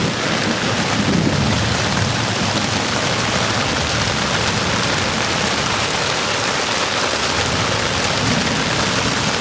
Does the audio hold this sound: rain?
yes